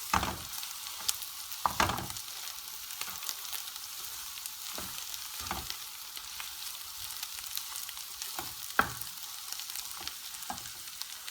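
Döner meat fries in a pan with a soft steady sizzle, while a spoon scrapes and stirs it in intermittent clacks, close and fairly quiet.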